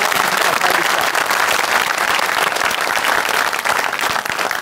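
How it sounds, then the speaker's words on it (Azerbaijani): A comedy show audience breaks into sustained, dense applause, many hands clapping together in a full, continuous roar that holds steady throughout. "Alqışlayaq anamızı."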